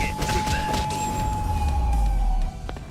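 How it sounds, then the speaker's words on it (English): Police sirens in a video game, a wailing siren tone sustained under game noise and voices, with a low rumble building before it drops off. "I hear the sirens."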